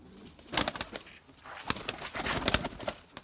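Pigeons coo inside a coop in soft, repeated bursts, with wing flutters and shuffling mixed in, close by and fairly quiet.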